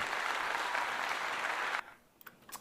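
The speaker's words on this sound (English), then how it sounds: "So applause to to ChatGPT for finding the right answer." Applause sound effect: steady, dense clapping that fills the first two seconds at moderate level, then cuts off abruptly, leaving a few faint scattered clicks.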